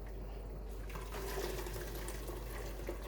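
Fish soup for Jamaican fish tea pours through a metal strainer, giving a steady, close liquid trickle and splash that runs continuously for a few seconds with no talking.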